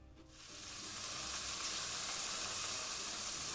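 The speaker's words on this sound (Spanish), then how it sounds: "Vamos a sofreír nuestra cebolla." Onion sautéing in hot oil in a pan, a loud, dense, continuous sizzle that swells within the first half second and then holds steady, with no talking.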